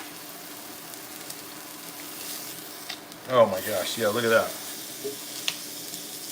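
Chicken and bacon fry on an induction cooktop, giving a low steady sizzle in the background while a person talks briefly over it.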